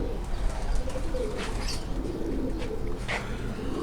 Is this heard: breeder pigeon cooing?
yes